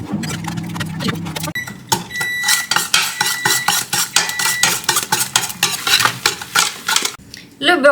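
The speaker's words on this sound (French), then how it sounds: "Je vais prendre le fouet de Paul Fredo" A whisk beating eggs in a bowl, quick rhythmic clinks and scrapes of metal against the bowl, close and fairly loud, after an opening stretch of softer kitchen clatter.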